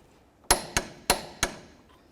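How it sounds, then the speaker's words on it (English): Torque wrench tightening bolts on the front CV axle of a 2003–08 Toyota Matrix with manual transmission: four sharp metallic clicks in quick succession, close and loud, with no talk. "Let's torque these to 66 foot-pounds."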